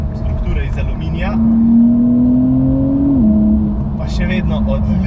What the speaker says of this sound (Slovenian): Še vedno odlično poje tale motor.